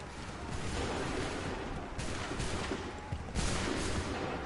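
Volleys of musket fire ring out in a battle in Assassin's Creed 3, dense overlapping gunfire bursts arriving in waves over a constant rumbling din, with no pauses of quiet.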